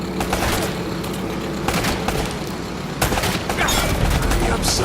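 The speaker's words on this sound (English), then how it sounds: "Less talking, more shooting." Dense gunfire from a firefight in Uncharted: Drake's Fortune, rapid overlapping shots and booms keeping up a steady, loud barrage for the whole stretch, with bursts of heavier blasts partway through.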